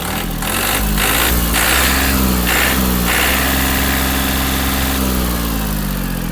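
Yanmar AF-26 mini tractor diesel engine running loud and close after an oil and filter change, throttle raised into a steady higher rev with a rough, constant drone.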